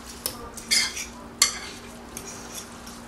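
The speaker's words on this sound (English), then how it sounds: "So mix it in well." Crab cake ingredients are mixed in a bowl with a few quiet, scattered scrapes and clinks of a utensil, then a brief stretch of faint background.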